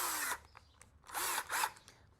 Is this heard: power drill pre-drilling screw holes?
yes